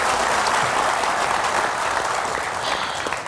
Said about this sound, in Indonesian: Tepuk tangan sekali lagi untuk Jui Purwoto